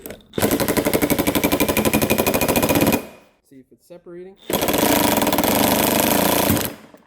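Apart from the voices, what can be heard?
hammering on wheel bearing hub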